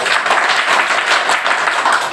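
Audience clapping at a lecture on a university program, a dense, loud burst of many hands applauding continuously with no voices over it.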